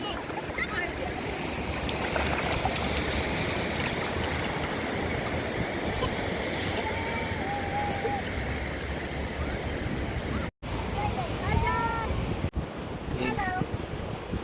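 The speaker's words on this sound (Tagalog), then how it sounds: "Medyo pataas ng pataas kasi yung alon." Steady wash of sea waves rising higher and water rushing on a beach throughout, loud and close, with faint voices and a few high squeaky calls over the surf.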